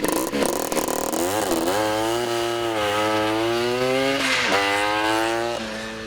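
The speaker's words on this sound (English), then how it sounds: "So I dialed in the engine, and boy, A, does it sound great" A tuned Stella LML Vespa scooter engine with a Polini 177 kit revs hard, pitch climbing and dropping through several pulls, loud and buzzy, close by, then easing off at the end.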